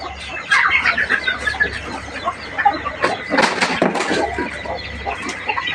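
Fighting chickens on a farm cluck repeatedly in short, overlapping bursts, several birds close by, with occasional louder squawks over a faint low hum of background noise.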